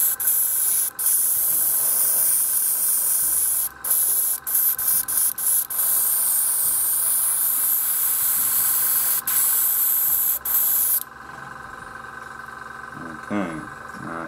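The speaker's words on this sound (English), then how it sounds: "The little airbrush is kicking in." A small airbrush sprays paint in a steady, loud hiss with brief stutters and gaps, then cuts off, leaving a quieter background.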